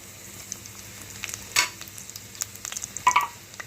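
Mustard seeds, cumin and dried red chilies sizzle in hot oil in a pan, with a soft steady frying hiss and scattered small pops and crackles, close by and with no talk.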